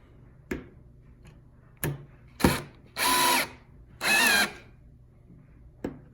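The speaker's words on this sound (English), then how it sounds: "Now we'll go ahead and sink our screws in here." A power drill drives screws into a floating shelf during assembly, giving two sustained whirring bursts of about half a second each, bracketed by sharp clicks and knocks, close and loud with no talk.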